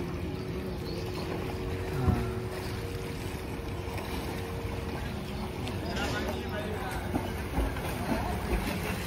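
A boat out on the river near the Omkareshwar Jyotirlinga temple, a steady low drone of motor and water wash with wind buffeting the microphone, continuous throughout.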